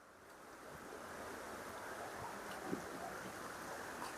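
A steady rush of river water flowing along the Rio Blanco in Costa Rica, a continuous broadband wash with faint wind noise and no voices.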